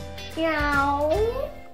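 A voice imitates a cat's meow with a drawn-out, rising and falling tone, close and clear against a quiet background.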